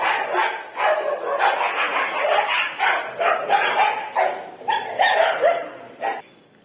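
A dog barks repeatedly in short, loud bursts close by, with brief whimpering yips between the barks.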